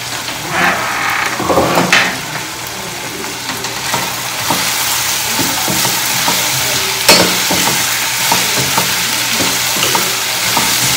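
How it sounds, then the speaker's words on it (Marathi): Tomato and soybean chunks fry in a pan with a steady, loud sizzle and crackle, and occasional spoon scrapes and knocks come through over the continuous hiss. "थोडा आता फ्राय होऊ देऊ आपण."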